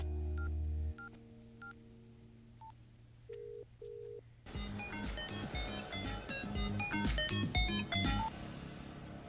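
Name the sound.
telephone keypad dialing tones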